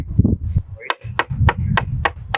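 A microphone is tapped flat against a surface in a steady run of about six sharp knocks, close and fairly loud, each evenly spaced over low rumbling handling noise.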